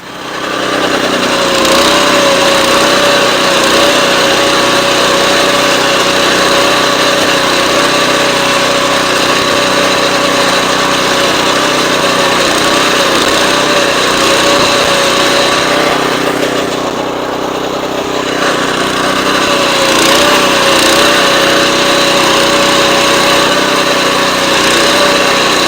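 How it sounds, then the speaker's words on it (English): A Tru-Cut reel mower scalps a lawn in spring prep, its small engine droning loud and steady with a constant high whir, dipping briefly before returning at full power. "I think I'm fairly familiar now with how to run the mower"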